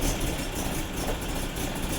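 A BMW E30's M10 engine idles roughly with a misfire, a close, continuous low rumbling drone that wavers unevenly while the car shakes.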